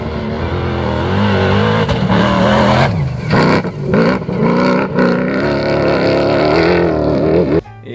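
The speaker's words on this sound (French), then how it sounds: "C'est un moteur Ford, effectivement, 5 litres qui est issu d'une voiture de série," A race car powered by a 5-litre Ford engine taken from the production Ford Mustang, with a loud, steady engine roar that briefly dips and surges across eight seconds before cutting off near the end.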